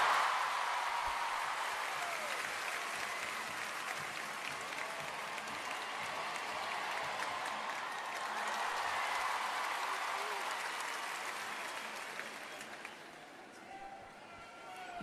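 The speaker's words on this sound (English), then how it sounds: "Just listen to the roar of the crowd." A gymnastics crowd at a men's floor exercise event in Paris roars and applauds steadily, a broad sustained wash of cheering and clapping that swells slightly midway and eases toward the end.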